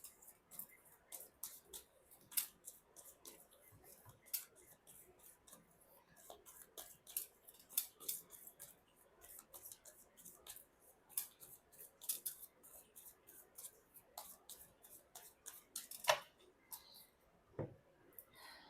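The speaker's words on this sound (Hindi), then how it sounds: "सबसे पहले आपके लिए कार्ड शफल कर रही हूँ मैं।" Tarot cards shuffled by hand, giving quiet, crisp riffling snaps and ticks in a steady patter that continues throughout, faint and close.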